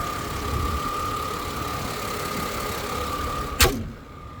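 A 2003 Mercedes-Benz SLK 320 idles steadily with a constant engine hum and a faint whine, then a brief loud clunk as it is switched off and the sound drops away.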